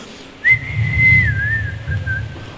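A single clear whistled tone, held and gently wavering over about two seconds, with a low rumbling background beneath it.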